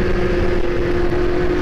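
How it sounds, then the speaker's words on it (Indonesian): Motorcycle engine droning steadily on a Malaysian road, a continuous loud hum with a sustained tone, alone without talk. "Sepeda motor."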